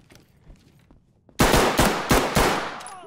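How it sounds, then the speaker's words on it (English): Gunfire in the tactical shooter Ready or Not, starting with quiet background noise and then a loud close burst of about six rapid shots in a row, each ringing briefly. "Nice shots. Good shots."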